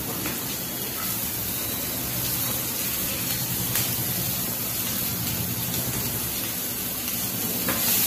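Cabbage being added to a pan with hot oil, asafoetida and turmeric, giving a steady close sizzle and faint stirring that runs evenly throughout with no talking.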